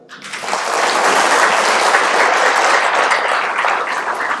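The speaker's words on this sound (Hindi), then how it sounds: "अपने लिए खुद ही ताली बजा लो" Audience at a Brahma Kumaris camp in Kurukshetra clapping their hands, rising quickly from quiet into loud, dense, continuous applause that holds steady to the end.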